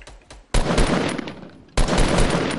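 Fortnite squad match gunfire: two loud, dense bursts of rapid shots, the first running about a second and a quarter, then a short lull and a second burst, all close and forceful.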